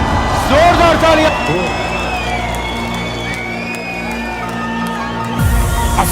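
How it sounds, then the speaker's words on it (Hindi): Cheering, whoops and shouting from a crowd at a corporate annual dinner, loud at the start, with speech-like voices and steady crowd noise throughout and a renewed swell of cheering near the end. "जोरदार तालियां।"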